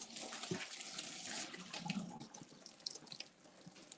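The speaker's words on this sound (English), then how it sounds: "I heard this is the way to drain it." Cooked pasta water poured from a pot into a kitchen sink, a splashing, gurgling stream of liquid with irregular drips and spatters, close and fairly quiet, no talking.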